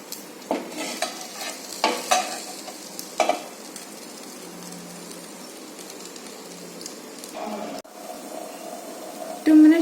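Chicken 65 pieces being turned and stirred in a dry pan with no oil, a close, soft sizzle under repeated scraping stirs, with a brief vocal hum near the end.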